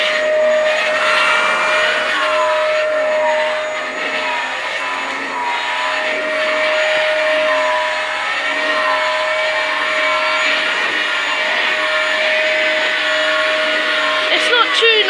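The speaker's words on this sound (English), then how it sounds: "we'll get this ready to vacuum and then we'll switch it on" A Dyson DC08 vacuum cleaner running, a steady loud motor whine with a high sustained tone that wavers slightly as it works, close up, with a voice talking over it now and then.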